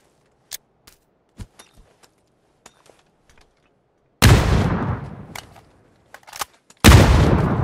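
Frag grenade detonations in PUBG: two loud, sudden broadband blasts with long rumbling decays follow a stretch of sparse, faint clicks and footsteps, with no talking.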